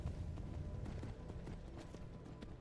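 Horse hooves clip-clopping in Skyrim, a steady run of light, evenly spaced hoof strikes over a low rumbling game backdrop, fairly close and moderately loud.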